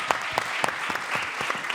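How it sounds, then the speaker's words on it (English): Audience applause at a World Food Day closing plenary, a short burst of steady, fairly soft clapping from a modest crowd with a few distinct close claps. "Please give them a warm round of applause."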